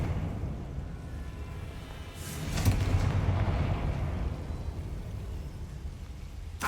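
Fire blast spell going off in Hogwarts Legacy: one sudden booming burst that rolls into a long, dull rumble over a steady low game ambience.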